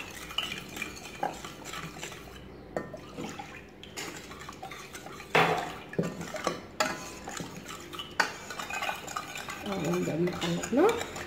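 Cream for tarts stirred in a pot on the stove, a utensil scraping and clinking against the metal in irregular strokes, close and fairly clear, with occasional faint background talk.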